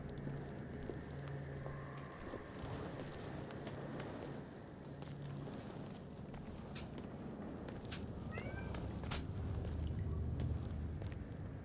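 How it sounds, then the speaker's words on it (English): A domestic cat meows faintly a few times in the background of a room, half buried under a steady, noisy wash of sound. "I just heard my cat."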